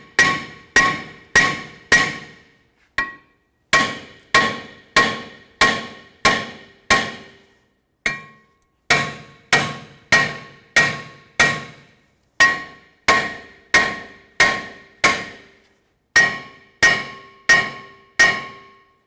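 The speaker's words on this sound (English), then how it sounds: "And we're going to use a hammer. We're going to just tap on that." Steel hammer tapping the hat side of a corroded front brake rotor on a 2008-2012 Jeep Liberty, a long run of sharp metallic clanks in steady bursts of four or five with brief pauses between, loud and close with no talking.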